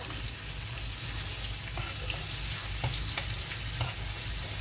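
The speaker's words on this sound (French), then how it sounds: "Voilà, j'ai bien grillé la viande." Meat sizzling and frying steadily in a pan, a dense continuous crackle with a few scraping stirs, close and loud with no talk.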